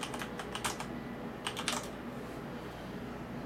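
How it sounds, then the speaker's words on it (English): Fingers tap a computer keyboard in two short, faint bursts of quick clicks over a steady low background hum, with quiet between and after them. "So you would type that here."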